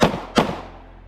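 Two sharp, loud pistol shots at an outdoor pistol shoot, fired about a third of a second apart, each with a quick fading echo.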